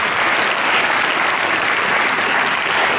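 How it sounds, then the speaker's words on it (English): A school audience applauds the conducting team at an annual show, a dense, steady wash of clapping from many hands that stays loud and even throughout with no voices standing out. "Give the team of conducting team a good round of applause."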